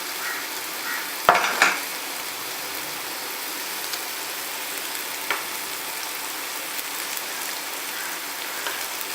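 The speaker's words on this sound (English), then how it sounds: "Now it's time to add our coconut paste." Soft, steady sizzle of paste frying in a pan, with a couple of brief scraping stirs near the start, fairly quiet throughout.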